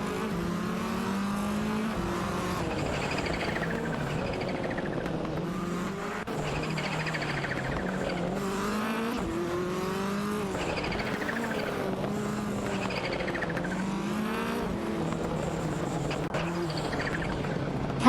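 Engines of a Toyota Celica and a Citroën BX dueling in a video game race, a continuous droning roar with rising and falling revs as gears shift, steady and moderately loud with no voices.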